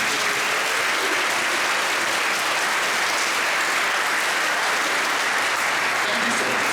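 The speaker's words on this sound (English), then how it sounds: "let's give a big clap once again to this." A congregation gives a long, loud ovation at a St. Joachim parish class of 2019 ceremony. Dense clapping fills the whole stretch without a break.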